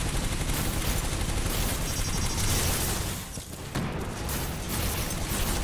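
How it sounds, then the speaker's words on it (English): The Predator cannon on a Monarch titan in Titanfall 2 fires a dense, continuous stream of rapid shots with small blasts, loud and close throughout with a brief dip midway, and no talking. "The Predator cannon actually has a small blast radius on each of its shots"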